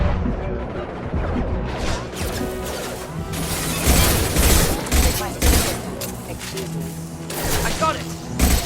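Shotgun blasts and automatic gunfire in a Mass Effect 2 combat firefight, loud repeated bursts with booming low-end impacts over continuous battle noise, with voices calling out amid the shooting.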